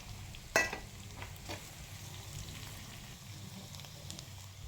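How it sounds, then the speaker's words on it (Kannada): Chopped onion and a little cumin fry in hot oil for vegetable fried rice, giving a steady, soft sizzle throughout. A sharp utensil clink sounds near the start. "ಎಣ್ಣೆ ಕಾದಿರೋದಕ್ಕೆ ಈರುಳ್ಳಿ, ಸ್ವಲ್ಪ ಜೀರಿಗೆ"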